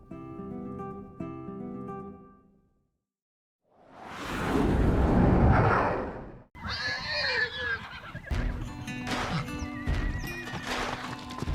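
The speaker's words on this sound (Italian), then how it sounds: "Un migliaio di cavalli a vagare allo stato brado" Wild horses roaming free in Herzegovina whinny and neigh in a herd, the calls loud and overlapping with a rushing whoosh of movement and hooves, preceded by a short stretch of music and a pause.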